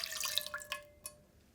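Water, 250 milliliters, pours into a cooking pot for a squid and taro potato stew, a soft splashing trickle that fades after a few seconds and ends with a couple of faint drips, close and quiet.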